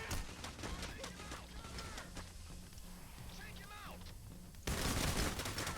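Gunfire from the Payday The Heist video game, dense bursts of rapid shots under a player's voice talking over them, growing louder and fuller near the end.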